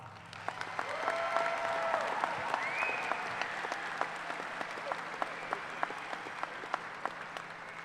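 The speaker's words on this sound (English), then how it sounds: "Let's give them one more round of applause." Sustained applause from a large crowd at a university commencement ceremony, steady clapping that fills the space with a few sharper claps standing out toward the end.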